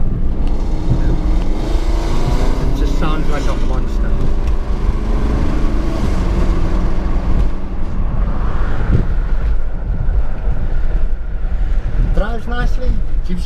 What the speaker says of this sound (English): This car's got such a nice fruity tone, you know, with it being a V8.